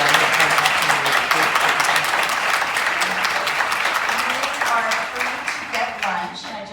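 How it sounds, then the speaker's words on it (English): Warm, sustained applause from a conference audience for a panel on welfare policy and poverty, many hands clapping loudly and evenly, tapering slightly toward the end, with faint voices underneath. "Please give them one more round of applause."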